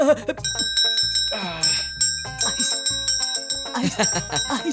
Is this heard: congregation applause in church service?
no